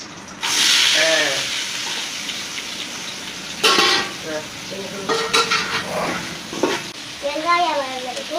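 Onions sizzle in hot oil for chicken biryani, a steady frying hiss with bursts of loud crackling as they are stirred in the pan, while someone talks over the cooking.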